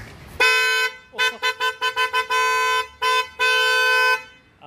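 A newly installed aftermarket horn on a Hyundai Verna car blares loud and close in a rhythmic pattern: one long blast, a quick run of short toots, then two more long blasts.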